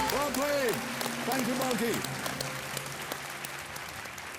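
A studio audience applauds on a Hindi TV quiz show, the clapping running as a dense wash under a host's spoken line and thinning out toward the end.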